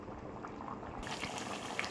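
Rice and water boiling together in a pot for Chettinad chicken biryani, a steady close bubbling and hissing simmer that runs throughout and grows brighter partway through, with no talk.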